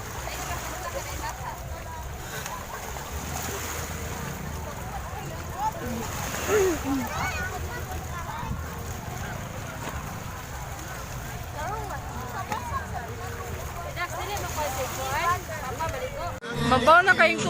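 Ocean waves wash steadily onto the shore at Palm Beach in Mactan, Lapu-lapu City, Cebu. A continuous rushing surf with occasional splashes sits under nearby people talking.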